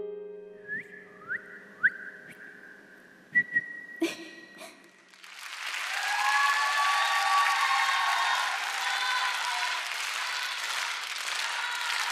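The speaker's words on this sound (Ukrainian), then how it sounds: "Глядачі аплодують, стоячи." A TV talent show audience rises in a standing ovation after a performance, loud sustained applause and crowd noise swelling in from about five seconds and filling the rest, preceded by a few sharp whistles.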